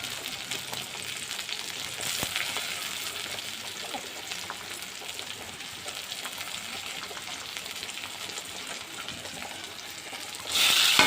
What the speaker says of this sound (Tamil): நல்லா வதங்கிட்டுருக்கு.